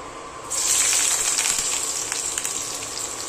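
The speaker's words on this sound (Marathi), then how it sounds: "आता ह्या तेलामध्ये पहिला कांदा टाकते मी" Chopped onion dropped into hot cooking oil for a Marathi-style chutney dish, bursting into a loud, steady hiss and sizzle that starts abruptly and keeps crackling close by.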